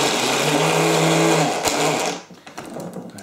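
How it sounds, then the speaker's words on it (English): A small blender whirs loudly and steadily with a strained motor hum for about two seconds, then cuts out, leaving scattered clatter and rattling. "I like this little blender because it saves a lot of messing about."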